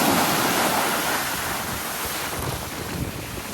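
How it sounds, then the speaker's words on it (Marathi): Large Arabian Sea waves pound the walls of Vijaydurg fort in a heavy, steady roar of surf, loudest at the start and easing slightly, with wind rumble on the microphone and no voices. "लाटा बघा किती आहेत मोठ्या."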